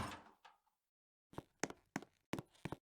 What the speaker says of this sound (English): When given a signal, it outputs a signal opening the door.